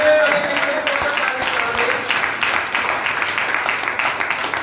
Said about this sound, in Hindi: परमेश्वर की महिमा के लिए जोरदार तालियां बजाएंगे।